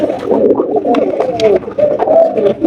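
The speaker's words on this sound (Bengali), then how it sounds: "এখানে দুই জোড়া কিন্তু মাক্সি রেসার কবুতর আছে" Maxi Racer pigeons coo continuously and loudly up close, overlapping throaty calls rolling one into the next from a pair or more of birds.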